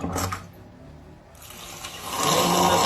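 Water gushing from a tap, a steady rushing stream that fades briefly before swelling back louder and fuller toward the end, with no one speaking over it.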